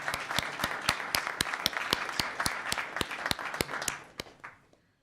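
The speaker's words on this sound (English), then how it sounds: "We can do a round of applause" Audience at a town council meeting breaks into a round of applause, a crisp patter with several loud individual claps standing out, sustained for about four seconds before tapering off to silence.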